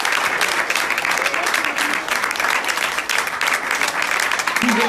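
An audience at the Forum Météo Climat 2018 applauds a 17-year-old candidate, the dense clapping sustained and even from start to finish.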